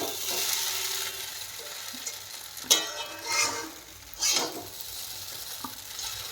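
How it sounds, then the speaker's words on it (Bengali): Peanuts and green chilies fry in a pan as a spoon stirs them, a steady sizzle broken by several sharp scraping stirs near the middle. "আমি তো কাঁচা লঙ্কা দিলাম, সব কিছু দিয়ে নাড়লাম।"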